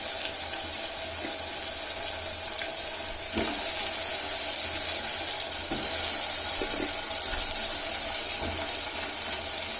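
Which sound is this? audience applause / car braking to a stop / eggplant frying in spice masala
eggplant frying in spice masala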